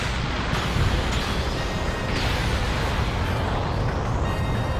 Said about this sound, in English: The battlefield becomes a storm of explosions.